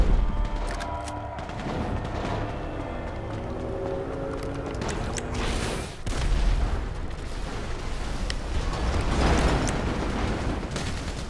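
Gunfire in a GTA 5 deathmatch, with dense, continuous loud bursts of shots and booming blasts rolling over one another for the whole stretch.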